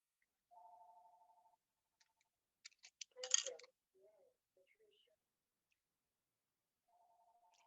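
A telephone rings with a short burst of electronic trilling tones, then falls quiet amid brief clatter and handling noise before a second ring starts faintly at the end.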